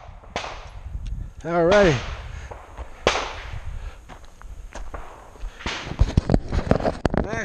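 Several sharp gunshot cracks from a Glock 43 pistol with an ETS magazine, fired outdoors at a target near a walkway, spaced a second or more apart. Someone speaks briefly between the shots.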